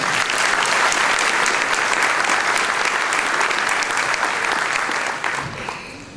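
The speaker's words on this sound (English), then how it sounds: "Let's give him a round of applause." An audience claps loudly and steadily at an awards-style event, a dense sustained applause that fades slightly toward the end, with no talking over it.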